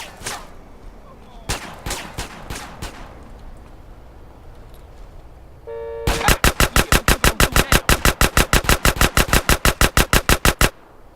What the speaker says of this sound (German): schon sind wir wieder unter Beschuss